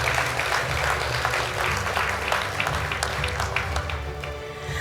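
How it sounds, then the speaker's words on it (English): Applause fills a hall at a ministry awards ceremony, a sustained dense clatter from a large audience over a low background hum, loud and continuous before easing slightly toward the end. "Let's give them all a round of applause."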